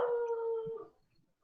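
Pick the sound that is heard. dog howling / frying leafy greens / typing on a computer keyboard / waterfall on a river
dog howling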